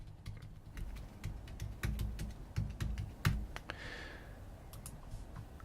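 Typing on a computer keyboard while working in Rhino CAD software: a close, irregular run of sharp key clicks with a few louder taps and pauses between bursts.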